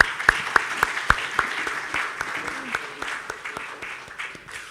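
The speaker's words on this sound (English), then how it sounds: "A round of applause." Applause at the AfCFTA Secretariat welcoming back the Secretary General, with a few sharp, prominent nearby claps standing out early, then a looser, uneven scatter of hands over a steady background of clapping.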